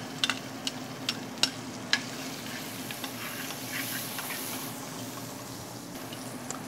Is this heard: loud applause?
no